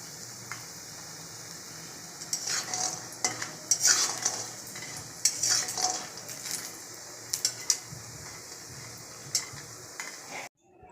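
Lentil dumplings (bori) frying in oil, a soft sizzle under repeated scraping and clinking strokes of a spatula against the pan, close by and uneven, ending abruptly.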